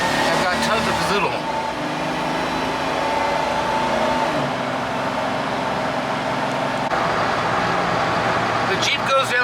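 A Jeep Wrangler 4x4 hardtop with a 4.0 straight-six engine on a test drive, its steady engine drone and road noise running continuously throughout, fairly close and moderately loud.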